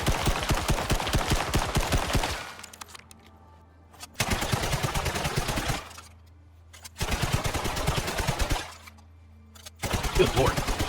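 Bursts of automatic weapon fire from an assault rifle or SMG in the video game Icarus, three long rapid strings of loud shots separated by brief pauses with low ambient hum between.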